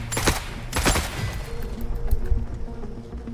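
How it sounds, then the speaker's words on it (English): Repeated heavy explosive blasts from a grenade launcher in the video game The Forever Winter, two loud bursts early on followed by rumbling booms and chaotic combat noise. "Look like a grenade launcher"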